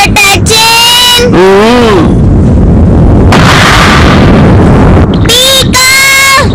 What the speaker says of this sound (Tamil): மலையெல்லாம் வெடிக்குது, வானம் இருட்டா இருக்கு.